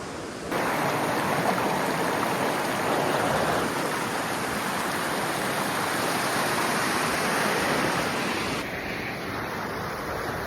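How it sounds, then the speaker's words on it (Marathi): A steady, loud rush of a waterfall deep in the Konkan forest fills the air, a broad continuous roar that holds constant before easing slightly near the end. "धबधबा एवढ्या मोठ्या जंगलाच्या बरोबर मधोमध्ये आहे."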